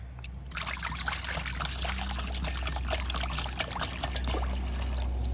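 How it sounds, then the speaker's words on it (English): Tap water pours steadily from a jug onto house plants, a continuous close trickle and splash that runs for several seconds over a low background hum. "This is tap water that I'm using"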